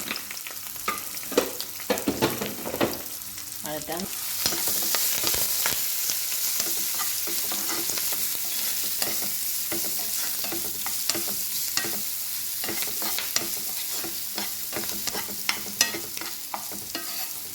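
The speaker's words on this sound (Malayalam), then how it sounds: "ഒരല്പം മഞ്ഞൾപ്പൊടി ഇടാം, ഇനി അല്പം ക്രഷ്ഡ് മുളകിടാം. നന്നായിട്ടൊന്ന് വഴറ്റാം." Turmeric and crushed chilli being sautéed in oil for sardine roe, a continuous close sizzle with frequent scraping and stirring strokes of a spoon against the pan.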